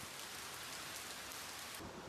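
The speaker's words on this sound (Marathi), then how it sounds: "बाहेर आलेलो कॉल करायला आणि जोराचा पाऊस आला इकडे" Heavy rain pours steadily outside a villa in Mapusa, Goa, a dense, even hiss with a brief lull near the end and no voices.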